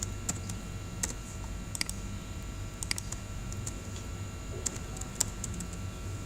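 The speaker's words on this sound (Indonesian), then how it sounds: "Kita ketikkan dulu nomornya." Keys on a computer keyboard tapped in short irregular bursts while numbers are entered into a Word document, with crisp clicks standing out over a low steady room hum.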